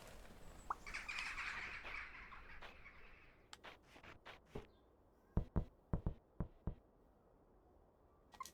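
Looping crow sound effects play on a live stream: a burst of bird squawks and chirps at the start, then a series of sharp, separate clicks and taps that grow more evenly spaced toward the end, with no talking.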